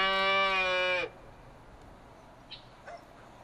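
A cow in the farming game Farming Simulator 2013 gives one loud, drawn-out moo lasting about a second, followed by quiet background with a couple of faint clicks.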